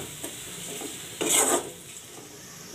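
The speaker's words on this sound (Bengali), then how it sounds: "আমি পেঁয়াজটাকে এভাবে নাড়তে থাকবো যত না পর্যন্ত ব্রাউন কালার চলে আসে" Onion fries in a pan, a low steady sizzle under a few scraping stirs, with one louder rasping stroke in the middle, close and quiet.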